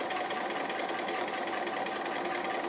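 A sewing machine runs steadily, stitching around an applique piece in a Tasty Treats quilt project, its fast motor hum and needle chatter close and constant with no pauses or talk.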